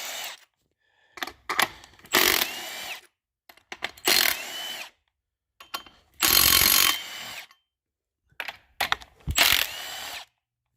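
A 90-degree right-angle power tool backs valve cover bolts out of a Detroit DD15 diesel engine. Five close, loud bursts of whirring and ratcheting are separated by short silent pauses, with no talking.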